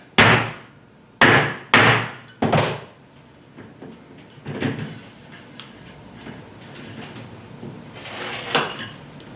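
Hammer blows drive a nail through a dog collar while fitting a rivet to a nameplate: four loud, sharp knocks in the first three seconds, followed by fainter, irregular tapping and handling noise.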